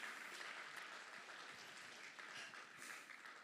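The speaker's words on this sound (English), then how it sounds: "Please applaud her." Applause from the audience at a Bharatanatyam arangetram dance recital: steady dense clapping with no talk over it, heard at some distance.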